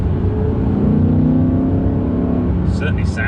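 A rear-wheel-drive Audi R8 pulls hard from inside the cabin, its engine note droning loudly and steadily, with a couple of brief high chirps near the end.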